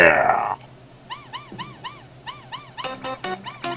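A dog in the video game Cave Story+ gives a loud opening burst, then a string of short, evenly spaced electronic yips, ending in a quicker cluster of barks.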